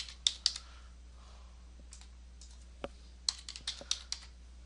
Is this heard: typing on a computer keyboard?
yes